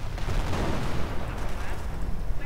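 Gunfire and artillery from a World War II strategy video game battle, with grenadiers, engineers and a Tiger tank under fire: a dense, continuous rumble of shots and blasts at steady loudness, with no voices.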